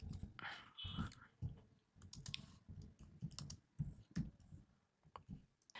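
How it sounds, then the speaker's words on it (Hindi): Keys clatter on a computer keyboard in quick uneven bursts of clicks and taps, close but faint, with no voice. "मैं यहाँ पर टाइप कर रहा हूँ"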